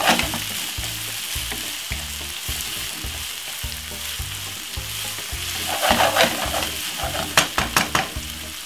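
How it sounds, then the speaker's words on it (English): Colorful mixed vegetables sauté in a pot, a steady close sizzle broken by rhythmic scraping strokes of a spoon stirring, with a few louder clattering knocks toward the end. "saute it off."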